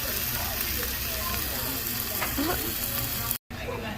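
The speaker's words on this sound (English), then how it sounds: "I love the sizzling pineapple." Steady broadband sizzling of pineapple frying on a hot grill, continuous and fairly loud, with a brief dropout near the end and faint chatter in the background.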